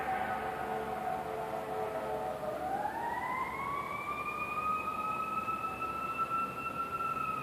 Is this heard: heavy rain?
no